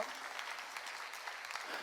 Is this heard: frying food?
no